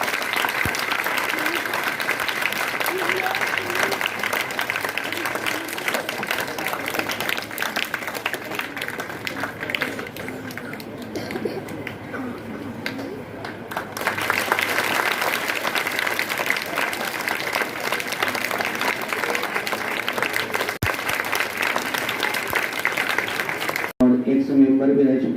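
A crowd at a measles awareness program at Taloja National Urdu School claps loudly and continuously for a long stretch, with voices talking over the dense applause.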